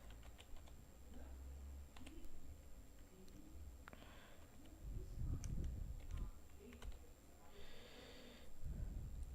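Code being typed on a computer keyboard, scattered light key clicks in uneven bursts alongside soft breathing and sniffing close by.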